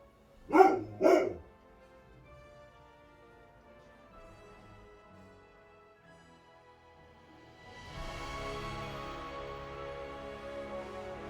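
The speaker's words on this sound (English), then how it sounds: "I love to hear her bark." A dog barks twice in quick succession near the start, apparently at deer or something outside the back door, followed by a quiet indoor stretch and then a steadier rumbling background noise.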